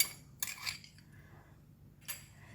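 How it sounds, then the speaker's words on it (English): Utensils clink against dishware while belacan fried rice topped with fried garlic is served, with a few sharp metallic taps near the start and another near the end, fairly close and quiet. "I'm going to dish out and serve"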